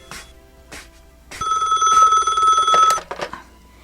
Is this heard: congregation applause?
no